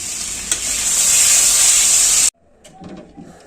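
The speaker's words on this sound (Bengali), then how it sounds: "আর এখানে করছি আলু ভাজা আর মিষ্টি কুমড়া ভাজা" Potato and pumpkin slices fry in a pan with a loud, bright, continuous sizzle and one sharp tap early on, then the frying cuts off abruptly and only faint, quiet room sounds remain.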